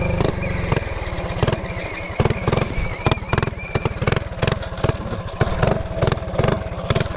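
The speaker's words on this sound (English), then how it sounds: "my carburetor messing up" A mini bike engine with a faulty carburetor runs loud and close, sputtering, popping and revving unevenly in choppy bursts with no talk over it.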